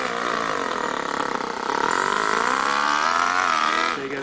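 A small 2-cylinder 4-stroke overhead cam engine runs in an RC car, a loud steady buzzing drone close up that climbs slightly in pitch as it revs, then drops off abruptly at the end.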